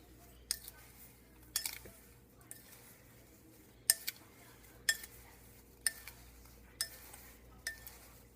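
Biscuit pieces for monkey bread stirred in a dish, a run of sharp, evenly spaced clinks of utensil on dish about once a second over a quiet background, close by.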